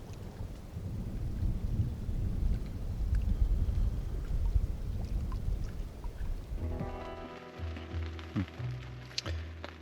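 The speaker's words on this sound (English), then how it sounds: "it's just been thunder in every direction" Thunder rumbles from many directions during a storm, heard from inside a tent: continuous loud low rolling for most of the clip, then quieter with distinct nearer cracks and rumbles toward the end, rain-like hiss throughout.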